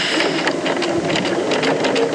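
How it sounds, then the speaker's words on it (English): A sewing machine stitches fabric with contrast thread, its steady motor whir running continuously and fairly loud, with no talking. "So then we can go back to the machine, do the stitching."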